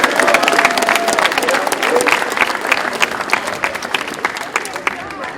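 Campers and families applaud a girl called up at a Stephen Curry basketball camp, a loud, continuous burst of many hands clapping, with voices mixed in.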